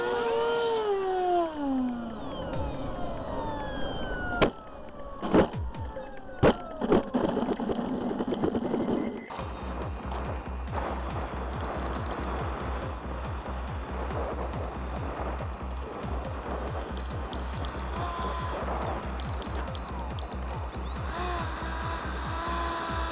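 A NitroPlanes Meteor RC jet with a high-pitched whining motor, heard at first with gliding changes in pitch and then as a steady loud drone with clicks and mechanical rattle close to the recorder.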